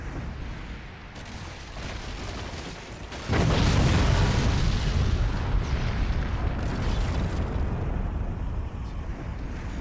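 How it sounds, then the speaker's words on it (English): Nuke explosions in the Forts strategy game: a low rumbling background builds into a heavy, sustained booming roar midway that stays loud with scattered crackles to the end. "there's the first nuke taking its first victim off the front"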